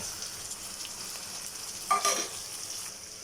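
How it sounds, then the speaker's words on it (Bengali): Ground spice paste hits hot oil with already fried onion and chili, giving a quiet, steady sizzle. A brief, louder crackling burst comes midway as the paste is added or stirred, then settles back to a low fry. "কেটে রাখা পেঁয়াজ আর মরিচ তেলে দিয়ে দিব। এটা সুন্দরভাবে ভাজা ভাজা করে নিব।"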